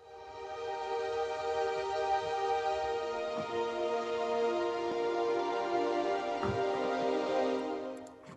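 A soft, airy ensemble of muted strings from a sample library, playing the concertino mutes articulation, holding a steady sustained chord, smooth and hushed, fading out at the end.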